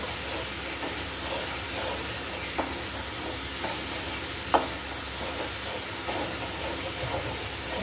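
Tamarind paste, turmeric and asafoetida sizzle in hot tempering oil for pulihora, a steady close hiss broken by a few sharp pops and clicks, with no one speaking.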